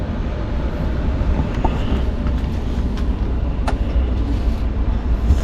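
The 12311 Netaji Express rolls onward after leaving Tundla station, a loud continuous rumble of wheels and carriage noise with faint clicks, heard from inside the train.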